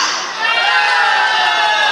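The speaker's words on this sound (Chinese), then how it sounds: "让我听一下你们的掌声尖叫" Audience at a temple New Year electronic dance party stage show, a burst of screaming and cheering crowd noise, loud and sustained for a couple of seconds.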